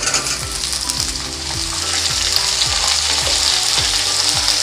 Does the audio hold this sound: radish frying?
yes